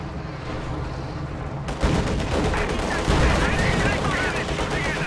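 Tank cannon and small-arms fire crack and rumble through a World War II strategy game battle, several loud shots with sharp onsets and a steady din of combat behind them.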